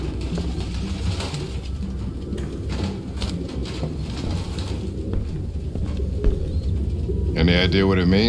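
Pigeons coo repeatedly in a grimy apartment in the Detroit: Become Human video game, a dense soft cooing chorus with flapping and rustling, under a game soundtrack and occasional voices, with a tonal swell near the end.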